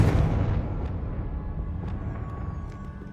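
A fire spell explosion in the video game Hogwarts Legacy: a heavy boom at the start decaying into a rumbling tail with faint crackles and small pops over about three seconds.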